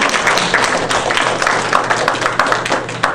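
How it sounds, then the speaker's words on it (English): An audience at an author talk gives a round of applause: steady, dense clapping from many hands, fairly loud and continuous, with a few sharper individual claps popping out of the wash. "can we please get a round of applause for those names that I just named"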